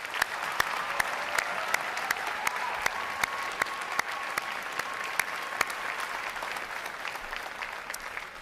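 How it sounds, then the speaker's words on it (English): At a U.S. Navy bootcamp graduation, a large audience gives sustained, even applause for award winners, with dense continuous clapping, sharp crisp peaks scattered throughout, and a faint tonal hum underneath. "How about another round of applause for these award winners?"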